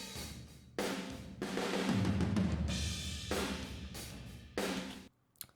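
Drum kit captured by a mid-distance room microphone, with broadband hits and washy cymbals in loud bursts, thick low-end thumps sustaining in the middle and decaying into a room ambience.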